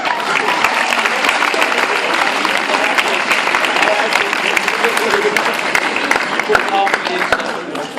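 A school leavers' audience applauds steadily, dense sustained clapping filling the hall throughout.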